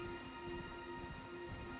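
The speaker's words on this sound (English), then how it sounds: "Let's hop on our trusty horse, Torrent." Hoofbeats of Torrent, the spectral steed in Elden Ring, galloping at a steady clip under a constant droning hum of game ambience, moderately loud and without speech.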